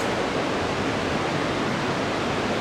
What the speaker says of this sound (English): What you're hearing is water going through our 5-foot tall man-made dam back here.